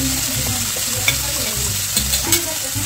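Masala spices roast and are stirred in oil in a pan, a continuous close sizzle with scraping stir strokes.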